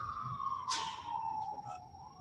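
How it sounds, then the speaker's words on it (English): A siren from a passing emergency vehicle wails faintly in the distance as one steady tone sliding gradually lower, with a short rustle partway through, heard from indoors during a county board meeting. "let the siren pass by"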